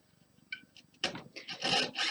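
A fret saw cuts a wooden mandala stick, giving rapid rasping strokes close up that start faint and grow into loud, uneven back-and-forth scraping.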